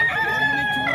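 A rooster crows once, loud and close, a single drawn-out call that fills the whole moment with no talking over it.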